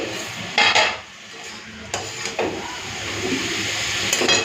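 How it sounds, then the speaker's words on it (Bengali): Metal lid lifted off a cooking pot with a couple of clanks and scrapes, followed by a soft steady hiss of steam and sizzling in a home kitchen. "এখন এদিকে ঢাকাটা খুলে নিচ্ছি"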